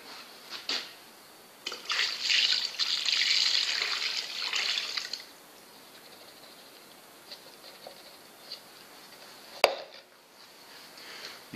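About 600 ml of cleaning solution is poured into the tank of a Vevor ultrasonic cleaner holding roughly 20 litres, making a close, bright splashing gush for a few seconds before it fades to quiet, with a sharp knock near the end.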